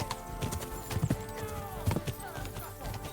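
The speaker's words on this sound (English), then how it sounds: "we haven't done a horse chase in forever" Hooves clip-clop at a gallop during a horse chase in Kingdom Come: Deliverance II, with rhythmic hoofbeats and a brief whinny under faint game voices, moderately close.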